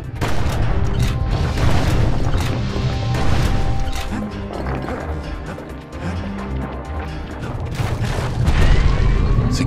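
Grenade blasts and crashing impacts from the video game Bastion, a dense run of loud, overlapping booms and smashes with no pause, backed by steady game sound throughout.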